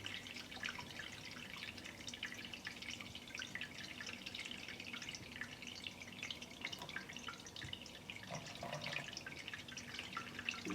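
Dandelion wine ferments in a container, giving off a faint, steady fizz of fine bubbling and soft crackling pops, quiet and continuous throughout.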